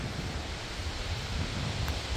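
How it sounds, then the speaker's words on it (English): Steady ocean-side wind roars and buffets across the microphone, a dense rushing noise with no pauses and no voices. "It's windy and kind of chilly"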